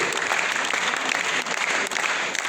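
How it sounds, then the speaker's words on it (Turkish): Audience applause at a concert, a dense, loud and sustained wash of many hands clapping together with no pauses. "Teşekkür ve alkışlarınız."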